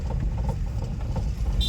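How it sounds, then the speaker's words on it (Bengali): A car in second gear pulls away after the clutch is released, its engine giving a steady, fairly loud rumble close by. Faint voices may sit underneath, and a short high tone sounds near the end. "সেকেন্ড গিয়ার করলাম, করে ক্লাচ ছেড়ে আস্তে আস্তে অ্যাক্সিলারেট দিয়ে যাচ্ছি"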